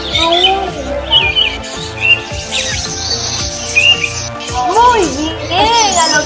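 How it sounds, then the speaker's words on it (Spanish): Birds chirp and tweet in quick, bright bursts over a busy background with rhythmic accompaniment, the calls repeating near and clear throughout. "¡Pájaro! Esos sonidos corresponden."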